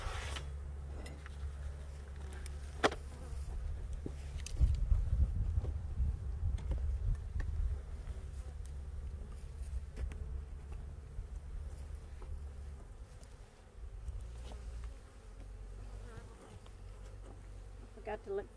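Honeybees buzz steadily around a backyard hive during a March inspection, a dense, continuous low drone that swells for the first half and then eases a little, with no talk over it.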